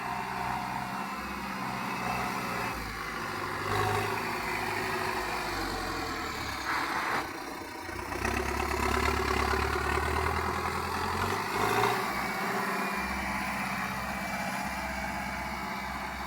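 A tractor engine ploughing a garden plot chugs steadily at a moderate distance, its low drone rising and falling slightly as it works, with no talking.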